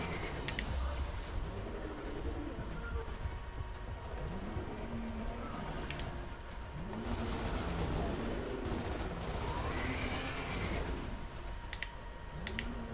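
Rapid bursts of weapon fire in Gears of War Ultimate Edition crackle in repeated loud volleys with echoing booms, over a dense mix of game effects and a low hum, with no talking.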